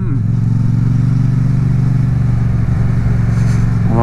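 Motorcycle fitted with an Akrapovic titanium exhaust cruising steadily, its deep, even engine drone loud and close throughout, with a brief dip near the end.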